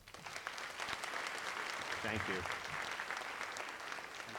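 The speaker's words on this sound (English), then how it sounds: "I'd like to give them a big round of applause." Audience applause fills the hall at a high school senior awards ceremony for the class of 2024, steady and sustained throughout, with a voice briefly speaking over the clapping.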